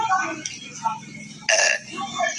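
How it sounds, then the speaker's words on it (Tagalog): A single loud burp bursts out close to the mic in the middle of a live stream, with casual chatter and room noise around it. "Narinig niyo yan? Dumighay ako."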